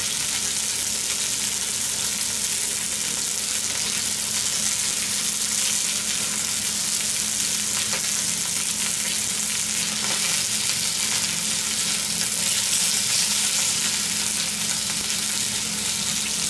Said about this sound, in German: Also ich brate es jetzt schön sauber an